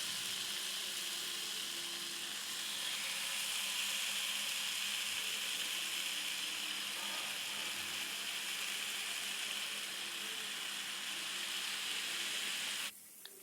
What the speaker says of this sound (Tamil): இப்போது சூடான பேனில் மேரினேட் பண்ணி வச்சுருக்கிற சிக்கனை எல்லாத்தையும் சேர்த்துடலாம்.